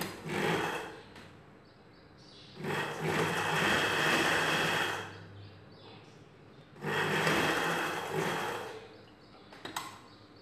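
A sewing machine runs in three separate bursts of fast, whirring stitching along a seam of a princess cut blouse, with quiet pauses between runs.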